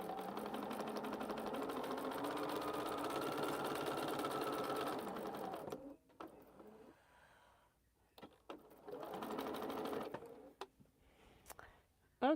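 A sewing machine stitches steadily for several seconds in a quilting session, then stops; after a pause a shorter burst of stitching follows, with brief clicks and handling noise between runs.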